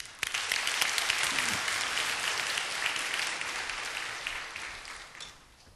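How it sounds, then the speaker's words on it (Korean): A church congregation gives a warm, sustained round of applause for a guest, steady dense clapping that fades gradually toward the end. "뜨거운 박수로 다시 한번 격려해"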